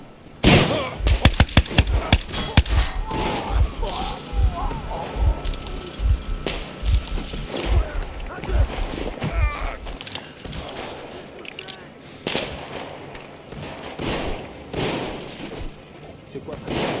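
Bursts of gunfire in the Metro Exodus video game, sharp repeated shots in rapid clusters early on, then scattered reports over game ambience, with voices shouting in between.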